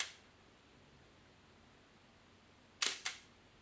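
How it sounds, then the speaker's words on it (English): Shutter of a Canon EOS M3 mirrorless camera firing a touch-triggered shot from the LCD: two quick, crisp mechanical clicks close together near the end of an otherwise quiet stretch. "The camera will focus and take a shot when you touch the LCD."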